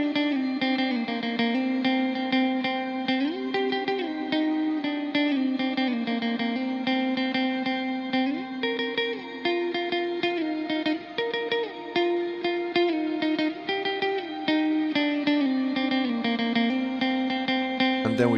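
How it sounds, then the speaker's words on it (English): Electric guitar through a compressor and octo reverb on a POD HD500 into a ZT Lunchbox amp plays sustained, compressed notes and chords drenched in shimmering reverb, continuous and fairly loud throughout. "I had it set up for a compressor to boost it, and also a different kind of reverb"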